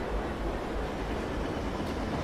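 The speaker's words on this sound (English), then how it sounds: "we can watch our own train drive away" A Class 350 EMU electric train pulls away from a platform in the Train Simulator 2019 game, a steady, moderately quiet rolling rumble with rail noise throughout.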